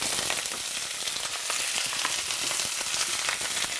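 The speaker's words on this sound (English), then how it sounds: "be careful when you add this to the pan because it'll spit and sputter a little bit" Frozen tortellini sizzles and spits steadily in hot sesame oil in a pan, a dense, continuous frying crackle with no talk over it.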